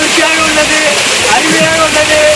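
Steady, loud rushing water of Ramiyanahalli Falls roars continuously, with a voice faintly audible beneath the broad wash of noise.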